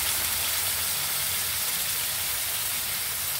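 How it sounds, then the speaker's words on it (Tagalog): Tomato sauce sautéing in a pan for pork igado, giving a steady, even hiss of sizzling that carries on without pause and without talk. "ang tomato sauce ko ay ginigisa ko"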